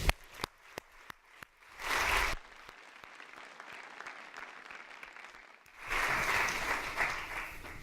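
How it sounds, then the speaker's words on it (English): Audience at a World Bank youth summit breaks into applause in two loud bursts, separated by a quieter stretch of scattered individual claps. "Please, please give them a big round of applause."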